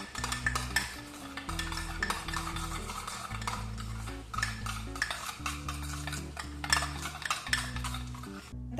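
Garam masala is stirred into a baby potato curry in a pan, with repeated scraping and clinking stirs and a faint sizzle under steady background music.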